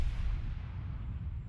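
A battleship's main turrets fire a salvo in World of Warships. The opening blast is heavy, deep and booming, and it fades into a long low rumble with no talking.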